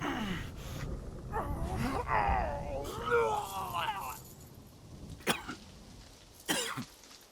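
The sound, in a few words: voice actor coughing and groaning efforts, Assassin's Creed Shadows video game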